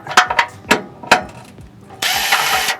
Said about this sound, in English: So we've got our 18 mil wrench and we're gonna put that on the other side to hold the nut